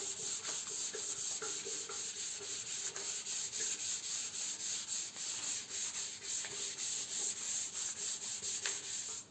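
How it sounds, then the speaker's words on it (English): Sandpaper rubs by hand over the painted metal fuel tank of a 1950 Triumph Thunderbird in steady, close back-and-forth strokes, a continuous gritty hiss with a regular rhythm and no talking. "sanding one way"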